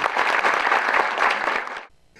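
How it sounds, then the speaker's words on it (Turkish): Audience applause at a school award ceremony for exam achievement, a thick burst of many hands clapping together that stops abruptly after about two seconds. "Bence en büyük alkışı isterseniz onlara gönderin."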